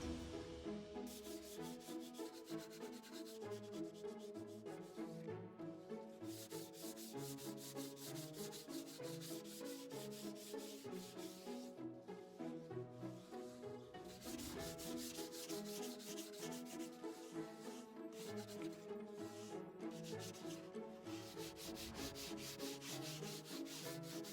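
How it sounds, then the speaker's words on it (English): Sandpaper rubs back and forth over a primed, painted piece to strip the primer, a steady, continuous scraping that runs unbroken and alone without talk. "So I'm going to sand these off and prime them again"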